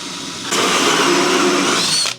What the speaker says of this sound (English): Had to wait a couple of days to get this 59mm sized hole saw bit for the LED holes. So, gonna drill that in here.